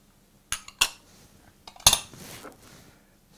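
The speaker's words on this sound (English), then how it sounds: "Just go ahead and mix that all good together first." A utensil scrapes and clinks against a dish while soy sauce, molasses and bay leaves are stirred together for a slow-cooked beef roast. Three or four sharp metallic taps sound up close, separated by short quiet gaps.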